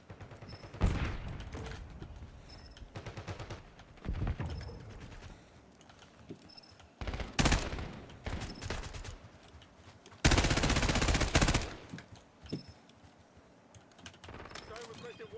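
Automatic gunfire from a weapon in Black Ops 6 hardcore mode on a small map rattles in several bursts of rapid shots, the longest about a second, mixed with keyboard clatter and someone talking.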